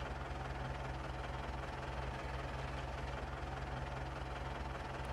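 Small tractor engine idling in Landwirtschafts-Simulator 19, a steady low drone with a constant hum that holds evenly for the whole stretch, fairly quiet and with no voices over it.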